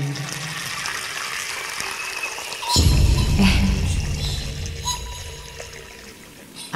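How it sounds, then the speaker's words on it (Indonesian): Water from a bathroom tap over a washbasin suddenly gushes partway through, a loud, close rushing that gradually eases off over the final seconds. "aku matikan keran air."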